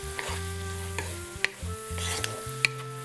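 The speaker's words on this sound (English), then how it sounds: "Throw in the peppers. We're just going to cook them for a minute." Peppers and garlic sizzle in a hot pan as a utensil stirs them, giving soft steady frying crackle broken by a few sharp clinks and scrapes.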